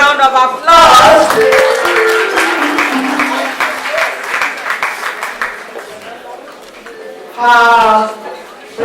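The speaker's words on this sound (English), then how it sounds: "Please give a big round of applause." A crowd at a Nnewi Women's League celebration in Lagos breaks into a loud, full round of applause that thins gradually, while voices talk and a brief sung or called-out phrase rises near the start and again near the end.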